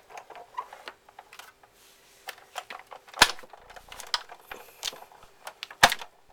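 A hand-cranked die-cutting machine clicks and ratchets irregularly as card runs through, with a couple of sharper louder clacks amid the mechanical ticking, close by.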